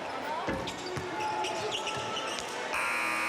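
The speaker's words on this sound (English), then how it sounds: "And Harris the miss at the buzzer, and that's all she wrote in overtime." Game-ending buzzer at an NC State versus Boston College men's basketball game in overtime, a sustained harsh tone cutting in near the end over arena noise, ball bounces and an announcer talking.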